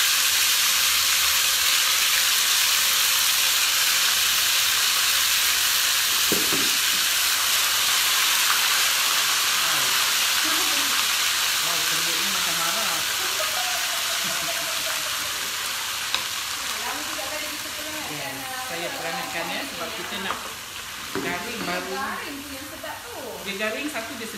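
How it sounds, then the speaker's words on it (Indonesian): Chilli sautéing in a generous amount of oil for peanut sauce, a steady loud sizzle and hiss up close that eases slightly partway through, with someone talking over it in the later part. "now kita akan tumis cili dengan minyak yang agak banyak ya."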